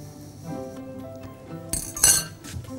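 A fork clinks against a serving plate while a lemon-sauce pasta dish is plated, giving a few light metallic taps that stand out near the end over a quiet kitchen background.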